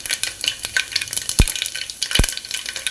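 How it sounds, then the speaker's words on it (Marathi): Mustard seeds, fennel and cumin sizzle in hot oil, a steady crackling hiss broken by two sharp knocks, close by and with no voices. "तेल आपलं गरम झालेलं आहे। आता याच्यामध्ये मी 2 चमचे मोहरी घालते, 1 चमचा बडीशेप घालते"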